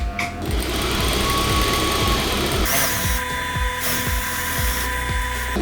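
A loud sewing machine runs steadily, stitching fabric for an animal rescue bat wrap, with a fast mechanical rhythm and a high whine, its pace shifting slightly near the end.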